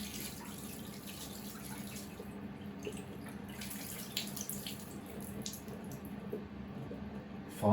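Water flowing out through a drain after the plug is pulled in a storm-soaked house, a quiet, steady trickling gurgle with small splashes, faint and without speech.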